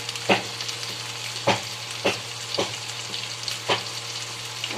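Tomato, coriander and turmeric sauté in a pan for phodnicha bhaat, a steady close sizzle with a constant low hum and five sharp scrapes of a stirring spoon spaced about a second apart.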